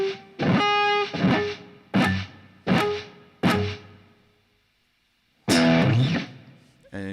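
Muted electric guitar strings struck across all chords with the picking hand damping them: five percussive distorted scratches in a steady rhythm, a pause, then another ringing chord stab; close and alone.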